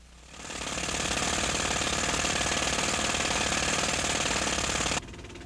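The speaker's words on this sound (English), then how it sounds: "to see how well it insulates the sound of the jackhammer" A jackhammer pounds steadily as heard from inside the cab of a 1981 Chevrolet El Camino, a muffled, continuous rattling hammering that swells in and then drops abruptly to a quieter level near the end.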